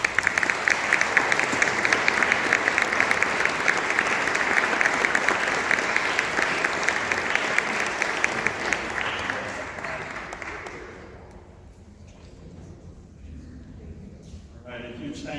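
Audience applause for Senator Duckworth at a veterans deportation panel: sustained, dense clapping from a sizable crowd for about ten seconds, then fading to quieter room noise.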